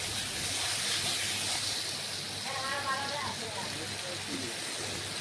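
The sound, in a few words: water added to mutton and potato masala hissing in pan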